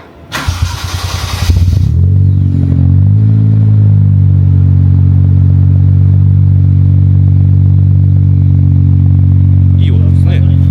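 An X81-generation Toyota Cresta fitted with an aftermarket muffler cranks and fires, then settles into a loud, deep, steady idle rumble that carries on close by for the rest of the clip.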